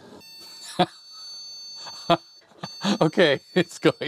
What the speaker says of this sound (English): It's beeping a lot.